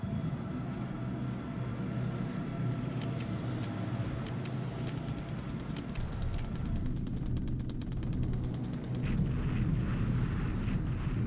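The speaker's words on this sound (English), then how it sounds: "Alright, Sally's bombing." Japanese Sally bombers attack in the War in the Pacific - Admiral Edition strategy game, with a continuous low rumble of engines and explosions plus a run of rapid mechanical rattling and clicks partway through, all fairly quiet and with no talking.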